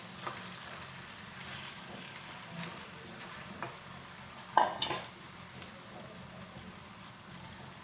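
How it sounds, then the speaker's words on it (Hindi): A spoon stirs macaroni through a chicken mixture in a pan over low heat: quiet soft scraping and shuffling, with a couple of sharper metal clinks near the middle. "इसमें मैक्रोनी शामिल करके अच्छे से मिक्स करेंगे।"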